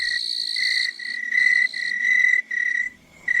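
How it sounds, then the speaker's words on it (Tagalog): Crickets and other insects chirp steadily at night along a country path, a continuous high-pitched trilling with brief dips, close and fairly loud with no voices. "Maliban lang sa huni ng mga kulisap"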